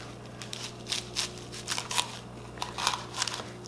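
Kale leaves are cut through with a knife, producing a string of crisp crunching snaps in irregular succession, close and clear over a faint steady hum.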